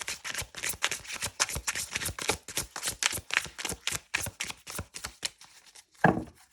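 Tarot cards are shuffled by hand in a steady run of quick, crisp riffling slaps, close and fairly soft, ending with a sharper tap.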